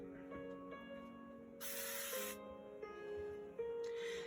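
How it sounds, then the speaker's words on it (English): Spray adhesive hisses in one loud burst of about a second onto a coloring stencil, set against soft sustained musical tones in the background. "Let me put a little adhesive on it."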